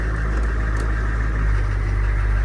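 A Humvee H1's engine runs steady and loud at idle as it is shifted into drive, with a constant low rumble and no talking.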